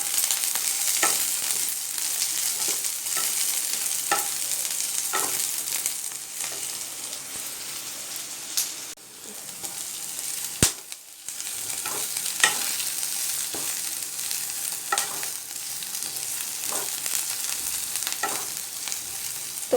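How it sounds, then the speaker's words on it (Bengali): Onions fry with garlic in a pan for paneer fried rice, making a continuous moderate sizzle broken by regular stirring clicks and one sharp clatter, with no voices. "এরপর আমি পেঁয়াজটা লাল লাল করে ভেজে নেব।"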